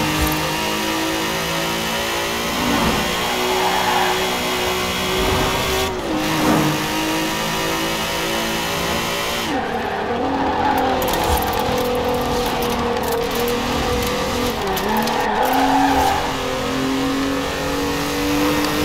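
A Volkswagen Golf MK4 in Forza Horizon 4 revs and accelerates through repeated gear changes, its engine pitch climbing and dropping over and over, loud and continuous with brief tire squeals and no speech.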